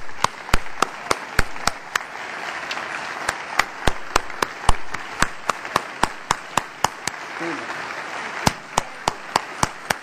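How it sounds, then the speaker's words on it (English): Audience applause at a Law Day celebration, with loud, sharp individual claps ringing out over a softer bed of crowd clapping for about ten seconds. "you all to join with me in giving Judith Kay the round of applause she deserves"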